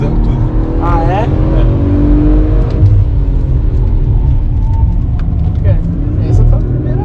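An Audi RS4 Avant B9 at full throttle on a race circuit, its engine droning loud and steady from inside the cabin with a rising whine, while people talk over it.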